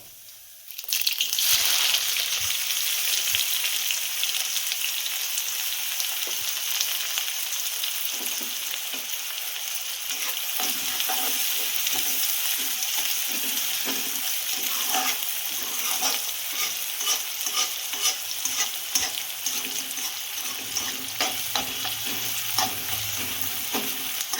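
Chopped onion sizzles and fries in a hot pan with cumin seeds for goat liver fry, a spoon stirring and scraping steadily throughout, close and continuous with no talk.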